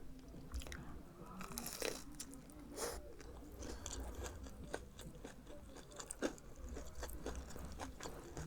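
Someone bites into and chews Flamin Hot Cheetos chicken, producing close, quiet crunches in an irregular series over several seconds, with no talking.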